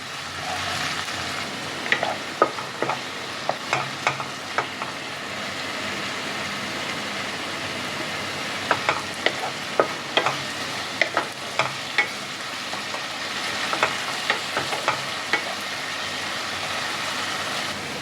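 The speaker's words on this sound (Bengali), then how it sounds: "এটাকে পেঁয়াজের সাথে ভালোভাবে মিশিয়ে এটাকেও ভালো করে কষিয়ে নিতে হবে।" Chicken masala and onions stir-fried in a kadai, with a constant close sizzle and scattered sharp scrapes and clicks of the spoon against the pan.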